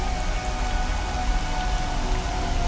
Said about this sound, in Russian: Дождик пошел.